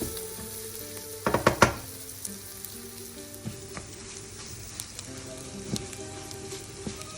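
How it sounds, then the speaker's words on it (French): Rice grains toast in a hot pan for a saffron and lemon risotto, giving a steady soft sizzle with a short burst of stirring clatter early on and a few light scrapes afterward; no talking. "on va le laisser dans la poêle jusqu'à ce que le riz devienne très nacré, un petit peu translucide"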